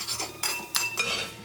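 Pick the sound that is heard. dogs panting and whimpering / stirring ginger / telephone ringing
stirring ginger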